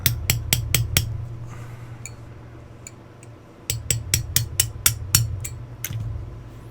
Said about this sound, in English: So I'm going to go ahead and tap that guy out while we're here.